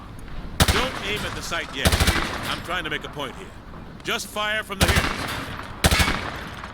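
Several loud, sharp bursts of gunfire from Call of Duty: Modern Warfare 2 Remastered, set in Afghanistan, arrive in separate clusters over continuous game sound and someone talking.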